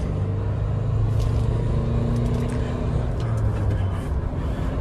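2023 Mahindra Thar 1.5 L diesel 4x2 idling and revving, a loud steady low rumble heard close from the driver's seat, with no distinct rise in pitch and no talking.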